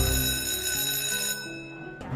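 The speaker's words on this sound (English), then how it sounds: "Phones are ringing." Telephones ringing in a busy office as orders pour in for a newly invented mop, a bright metallic bell ring filling about two seconds, clear and fairly close, then cutting off abruptly.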